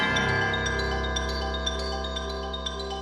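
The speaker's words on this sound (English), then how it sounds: "So now you hear the xylophone," A sampled xylophone from the Sonokinetic Capriccio pitched percussion library plays a quick series of bright struck notes that ring out over sustained tones, loud and clear with no talking.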